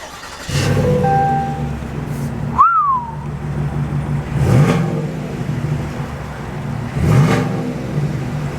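A big engine revs in several loud, rising bursts, idling between them, with a brief whistle-like tone near the start.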